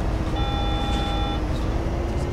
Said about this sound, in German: Jetzt piepst es wieder.